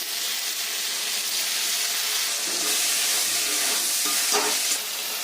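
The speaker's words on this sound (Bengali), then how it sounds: "এবার এতে দিয়ে দেব ফাটিয়ে রাখা টক দই" Whipped sour curd goes into fried spice masala in a hot pan, producing a loud, continuous frying sizzle and hiss that stays steady close by, with no talking.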